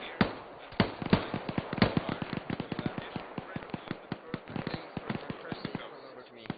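Rapid gunshots crack in a military video game, dozens of sharp, close reports in quick irregular bursts that keep firing for over six seconds, with faint radio chatter occasionally beneath.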